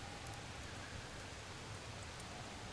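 Steady, soft rainfall in The Solus Project video game, a faint continuous hiss of drops with no other sounds over it.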